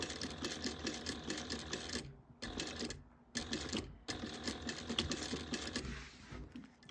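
Sewing machine stitching a bag seam with back stitching, running in fast mechanical bursts broken by two short pauses, close and loud with no talk.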